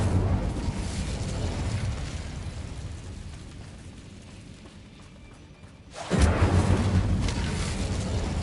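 An Incendio fire spell cast in Hogwarts Legacy, heard as a long roaring, rumbling whoosh that dips briefly and then surges back with a loud fiery burst near the end.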